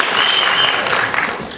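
Audience applause fills a Marathi book-launch gathering, a dense and steady burst of clapping that stays loud and close throughout and thins slightly at the end.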